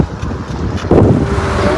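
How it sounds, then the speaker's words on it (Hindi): Strong wind blows across an expressway, buffeting the microphone with a loud, rumbling roar that surges into a heavier gust partway through. "बहुत ज़्यादा हवा चल रही है"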